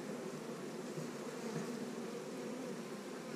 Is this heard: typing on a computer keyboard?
no